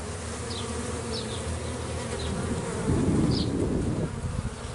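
Honeybees from a newly opened hive drone in a dense, continuous buzz up close during a varroa treatment, with occasional individual bees zipping past and a louder swell of buzzing toward the end.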